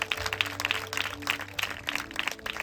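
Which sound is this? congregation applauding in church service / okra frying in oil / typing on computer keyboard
congregation applauding in church service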